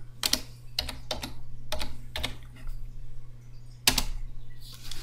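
Bursts of computer keyboard keystrokes as a folder name is typed, clattering in uneven clusters with short pauses, close and fairly loud over a steady low hum.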